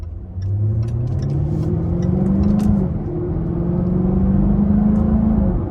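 A 2024 Jaguar F-Type P450 R-Dynamic with a supercharged V8 in sport mode, revving loud and close from inside the cabin, its engine note climbing steadily through two long pulls with a gear change between them.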